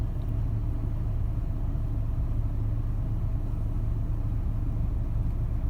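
A 2004 Chevy Trailblazer engine held steady at about 1700 RPM, a continuous low rumbling drone at even loudness throughout with no talking.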